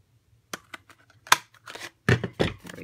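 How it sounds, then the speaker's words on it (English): Paper is trimmed for a card box with a cutting tool, giving a few short, crisp snips and scraping slides at close range. These end in a couple of longer rustling swipes, and no one speaks. "I'm going to just put this through and just trim that little bit off."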